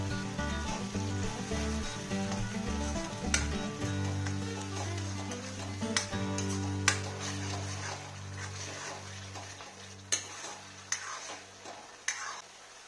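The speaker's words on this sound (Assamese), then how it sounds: "আৰু অলপ সময় ভাজিব লাগিব।" Onion paste frying in oil in a home kitchen: a soft, continuous sizzle with occasional stirring clicks, heard under tonal background music.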